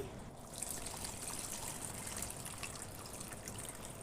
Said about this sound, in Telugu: చింతపండు పులుసుని పోసేసుకోవాలి